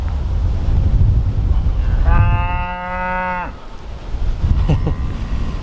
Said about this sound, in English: There's all the cows up there.